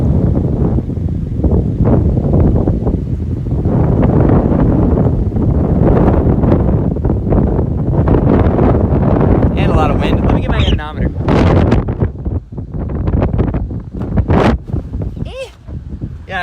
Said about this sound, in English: Yeah, it's windy, all right.